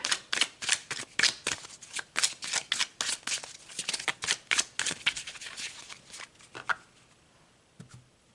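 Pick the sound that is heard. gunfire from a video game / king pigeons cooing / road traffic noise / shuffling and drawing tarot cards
shuffling and drawing tarot cards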